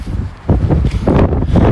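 Gusty wind buffets a phone microphone during a summer storm in Milan, loud low rumbling bursts that swell and drop in quick irregular gusts.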